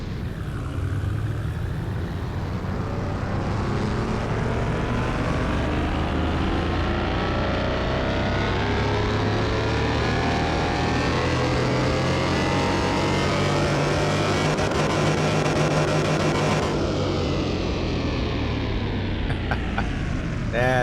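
An engine in Car Mechanic Simulator 2021 runs steadily on a test drive, a low continuous drone that rises in pitch as it accelerates, loud and close without pause.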